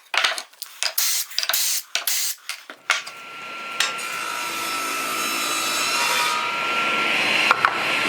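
A handsaw cuts a wooden workpiece for a woodworking bench vise in a run of sharp, close rasping strokes, then gives way to a steady whirring tool sound that holds to the end.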